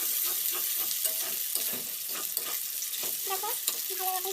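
Onion, chilli, ginger-garlic and a ground paste of dried chilli, cumin and pepper frying in oil, a close steady sizzle broken by the clatter and scrape of a spoon stirring through the pan, with no talking.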